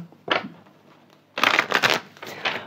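Tarot cards shuffled by hand for a reading: a short riffle of papery flutter, a pause, then a longer run of quick card slaps and rustles, close and fairly loud, with no voices.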